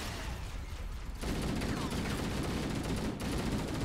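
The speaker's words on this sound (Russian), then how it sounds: "Вот звуки стрельбы реально лучше, чем в Reach." Gunfire in the video game Halo, a dense continuous burst of rapid shots from about a second in, loud and sustained with brief dips, preceded by quieter game noise.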